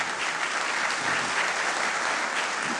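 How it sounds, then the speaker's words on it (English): Steady audience applause, dense continuous clapping from a crowd, fairly loud and sustained throughout with no voices over it. "if we could hold the applause till the end of the show tonight"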